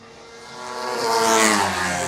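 Racing motorcycle, likely a Supersport 300 or Moto3, at the Cookstown 100 road races. A loud, high-revving engine swells as it approaches, peaks and passes, then begins to fade.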